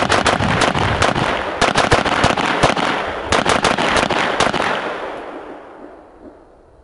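Rapid strings of loud gunshots ring out at steel targets during a timed shooting drill, dense cracks overlapping with metallic pings, then the reports and echo taper away to near quiet.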